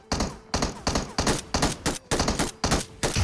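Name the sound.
MK14 rifle gunfire in PUBG Mobile video game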